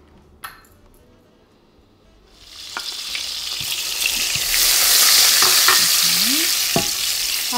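Fat melts in a hot pan ahead of onions for a rice and shredded beef pilaf cake. A quiet start with a metallic clink gives way to a loud, building sizzle, with stirring scrapes on top.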